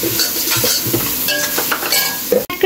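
Onions frying in a pan with a spoonful of garlic paste added, loud close sizzling under rhythmic spatula stirs and scrapes, with a sharp knock near the end.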